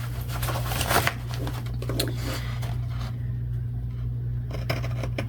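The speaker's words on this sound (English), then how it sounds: "So I'm just going to take my scissors." Scissors snipping through scored paper for a junk journal craft, a few close, crisp cuts and rustles near the start, then quieter handling noise over a steady low hum.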